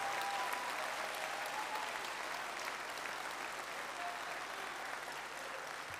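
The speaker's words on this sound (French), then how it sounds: "Merci de l'applaudir." A political rally crowd in France's Hauts-de-France applauds Patrick Jardin, father of a Bataclan victim, with steady, sustained clapping from a large hall, even in intensity across the whole stretch, no speech over it.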